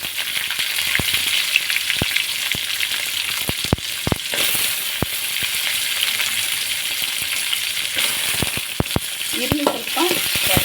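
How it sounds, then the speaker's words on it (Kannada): Onion frying in a little cooking oil with mustard seeds and cumin in a pan: loud continuous sizzling and crackling, with sharp popping clicks scattered throughout and a brief stirring scrape near the end, close up, no talking. "ಈರುಳ್ಳಿ ಸ್ವಲ್ಪ ಫ್ರೈ ಮಾಡ್ಕೊಳ್ಳಿ."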